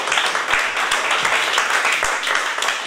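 Audience applause after a poetry reading at a literary event, steady broadband clapping throughout with a few sharper individual claps standing out near the front.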